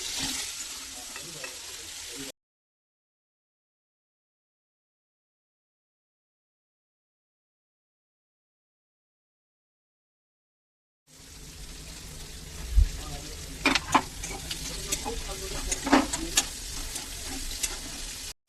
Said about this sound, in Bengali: এরকমই ভাবে পনিরটা ভেজে নিব। বেশি ভাজবো না বন্ধুরা, না হলে পনিরটা শক্ত হয়ে যাবে